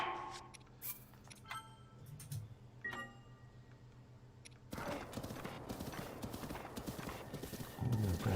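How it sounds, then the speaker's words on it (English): Horse hooves clip-clop in a steady rhythm alongside whinnying and neighs in The Legend of Zelda: Breath of the Wild, with game effects and a denser, louder stretch of galloping toward the end. "if this stupid horse wouldn't stop when he sees a guardian"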